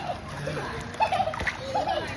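A child jumps into water with a splash, followed by more splashing and sloshing as children play and talk nearby in an outdoor bathing spot.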